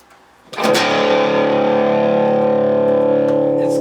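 A distorted electric guitar chord through an ENGL Powerball MK.I amp with brightness boosted rings out loud and bright after a brief quiet moment, sustaining evenly with a crisp, trebly edge.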